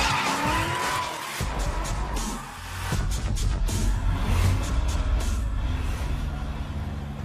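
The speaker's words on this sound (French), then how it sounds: "C'est l'art du dérapage contrôlé et des moteurs qui rugissent." A drift car skids through a controlled slide at a drifting event, its engine roaring loudly while the tires squeal continuously with no break.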